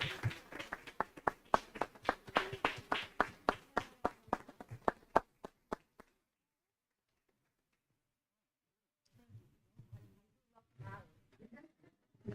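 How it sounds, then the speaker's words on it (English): Audience at a DEI panel discussion claps in a steady, moderately loud run of sharp claps for about six seconds, then falls silent before a few people begin talking nearby. "Come on, clap them up, clap them up."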